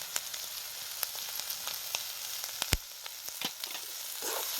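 Bell pepper and onion masala frying and being stirred in a pan over a wood-fired village stove, with a steady soft sizzle and scattered sharp scrapes and clicks of the spoon, close and alone.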